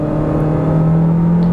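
An SUV, a Jeep Compass Série S or Volkswagen Taos Highline, launches hard from a standstill with its wheels slipping. The engine drone is loud and steady with a strong low hum, and no one speaks.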